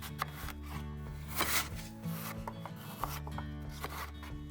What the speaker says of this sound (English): wash and core the apple and cut it into roughly 16 slices